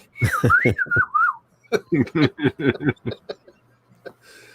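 A person whistling a short wavering tune in a movie, followed by a run of chuckles and snickering laughter, close and clear.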